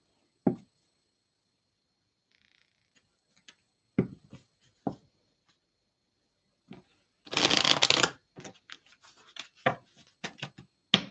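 Oracle cards are handled and shuffled close by, scattered taps and slides in quiet surroundings, then a loud riffling burst and a string of quick flicking snaps as the deck is worked.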